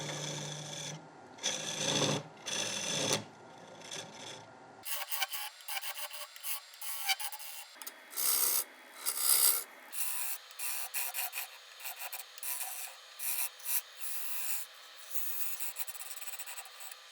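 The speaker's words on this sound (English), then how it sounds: "Square end scraper now." A square end scraper cuts wood on a lathe while a heavy-duty chopping board is turned, giving a steady scraping rasp in bursts with brief pauses, loud and close with no voices.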